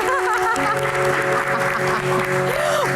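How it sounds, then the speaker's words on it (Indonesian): Audience applause at a Q&A event, a steady wash of clapping filling the whole stretch, with a faint voice and a musical tone under it. "Oke, tepuk tangan."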